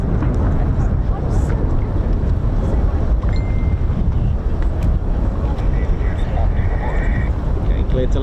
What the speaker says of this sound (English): Oh, that wind is really strong up here.